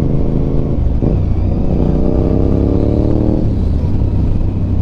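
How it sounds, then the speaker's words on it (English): A Honda RC51 motorcycle engine revs hard and pulls up through its range, a loud, close, throaty roar whose pitch climbs steadily over several seconds. "she goes, as you guys can tell"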